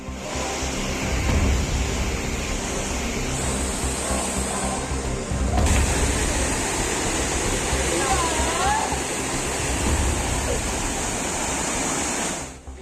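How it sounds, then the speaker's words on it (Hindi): Kempty Falls in Mussoorie roars after heavy rain, a loud, steady wall of rushing water that keeps up without a break for the whole stretch, with nearby voices faintly mixed into the torrent. "भारी बारिश के बाद कैंपटी फॉल कितना खतरनाक हो चुका है।"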